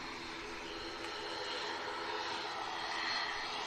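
ATR turboprop airliner passing overhead on a return leg to Dublin, a steady broad engine roar that swells slightly toward the end, with no talking.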